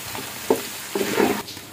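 Chicken frying with spices in a pan sizzles quietly under a few quick stirring scrapes across a short stretch.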